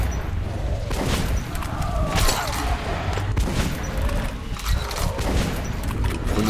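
Shotgun blasts and heavy combat noise in the video game Metro Last Light Redux come as dense, loud, booming bursts over a constant rumble, with a few sharper shots standing out.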